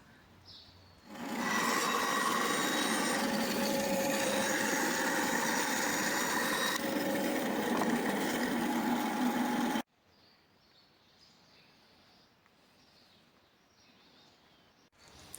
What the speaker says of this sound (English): running these boards back through the bandsaw with the fence so I can get a nice straight edge to remove all those waves